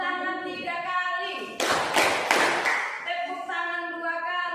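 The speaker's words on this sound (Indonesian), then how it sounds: "Tepuk tangan 3 kali." A classroom of students claps in a short burst of a few sharp, loud claps, set between stretches of sustained tonal sound.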